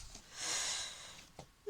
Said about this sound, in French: si je renifle, je suis désolée, hein, c'est juste que j'ai des allergies